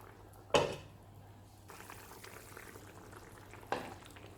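A thin, watery Chettinad thaneer kuzhambu bubbles in a pot on the stove with a soft, steady simmering hiss. Two brief louder clatters or splutters break in near the start and the end.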